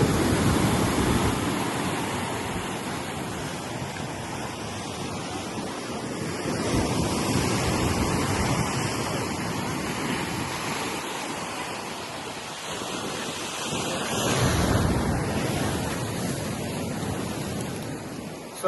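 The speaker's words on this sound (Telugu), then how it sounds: "ఈ అలలని చూస్తాండి" Ocean waves surge and break at Rock Beach, Pondicherry, under strong wind buffeting the microphone, a continuous roar swelling in several big rushes, no voices.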